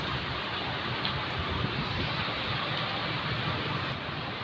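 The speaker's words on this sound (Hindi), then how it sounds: "ये देखिए इतनी सुंदर बारिश हो रही है" Heavy October rain pours steadily onto an open courtyard, a continuous, even hiss with no pauses and no voices.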